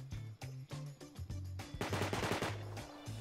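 Rapid SMG bursts from a submachine gun in the survival game Rust, several loud, close volleys in quick stuttering rhythm with brief gaps, a denser rattle of fire building toward the end.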